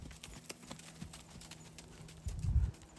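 Hoofbeats of a horse trotting in an arena during a riding lesson, a steady clip-clop rhythm at moderate distance that grows heavier and louder near the end, with no talk.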